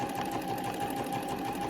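A sewing machine runs at a steady, even hum, stitching fabric for a breast form in one continuous close-up burst with no voices.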